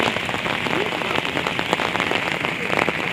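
Steady rain pours down outdoors on rainy hills near Banjosa lake, a dense continuous patter of drops on surfaces with faint voices at times underneath.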